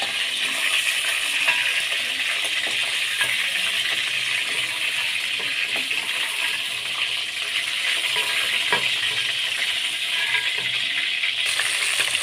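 Chicken pieces frying in a pan for chicken pota, a continuous moderate sizzle with occasional small clicks and rattles, no talk.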